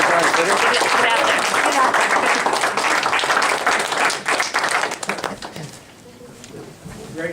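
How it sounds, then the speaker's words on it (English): Audience at a board meeting applauding, loud dense clapping that holds for several seconds then thins out and fades, with a voice speaking briefly near the end. "how about a nice round of applause for you?"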